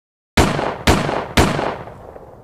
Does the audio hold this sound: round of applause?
no